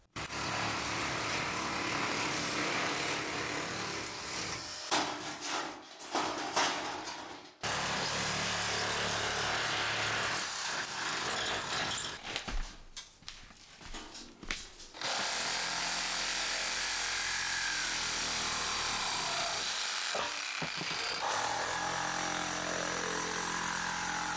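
Power tool cutting a window hole in a metal roof, loud continuous grinding and whining in long runs, with brief pauses and changes in pitch, close by and with no talking.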